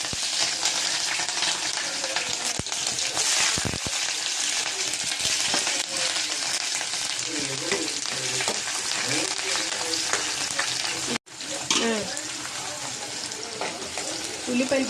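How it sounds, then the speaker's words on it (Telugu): Onions and green chillies fry in hot oil for a mutton curry, giving a loud, steady sizzle with stirring scrapes that runs nearly the whole time and cuts out briefly near the end. "ఆయిల్ వేడైన తర్వాత ఉల్లిపాయలు పచ్చిమిరపకాయలు వేసుకోవాలి."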